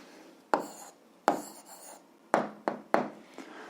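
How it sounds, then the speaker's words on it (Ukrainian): Pen strokes writing an algebra answer on paper, heard as five or six separate short scratchy taps spaced unevenly, close and fairly clear against quiet. "записуємо відповідь"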